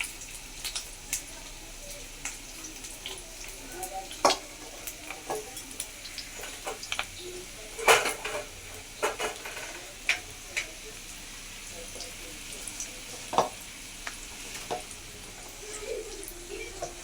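Egg and gram flour batter fries in hot oil in a wok, a quiet steady sizzle broken by scattered clicks and scraping stirs, with brief soft voices in the background.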